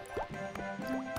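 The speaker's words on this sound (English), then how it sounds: "On the tables and lids, the rain is dripping." Cartoon rain dripping through a leaking ceiling onto tables and lids, with soft liquid drips and plinks over a steady musical background, a few distinct drops across the moment.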